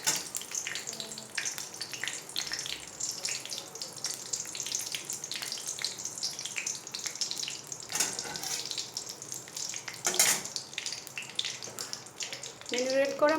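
Bay leaves sizzling in hot oil for a chicken curry: a steady crackling hiss with occasional sharper pops and a brief spatter burst, close and continuous, with a little kitchen handling noise.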